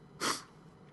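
One short, sharp human sneeze, close and fairly loud, standing alone in a quiet room.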